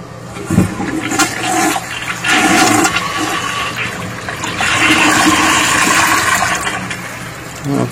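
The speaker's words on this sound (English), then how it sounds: "I'm gonna give it a nice flush." A toilet flushes right after cleaning: a loud rushing surge of water swirls and drains for several seconds, close up and heard alone.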